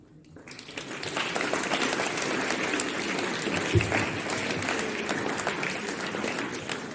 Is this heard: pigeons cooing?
no